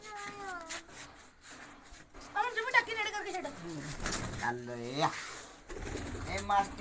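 Pigeons are let out from freshly whitewashed coops, giving repeated cooing and bird calls with soft wing flutter, heard close under continuous talking and shouting from several people nearby.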